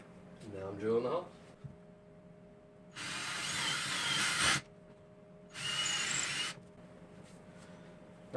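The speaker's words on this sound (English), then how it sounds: "Now I'm drilling the holes." A power drill bores holes in a sheetrock wall in two loud, close bursts of steady whirring, each a couple of seconds long, with a brief spoken voice before them.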